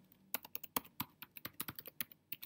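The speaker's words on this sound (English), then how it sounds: "And let's type our Twitter." Rapid, irregular keystrokes on a computer keyboard as a web address is typed, crisp close clicks in quick bursts with brief pauses between them.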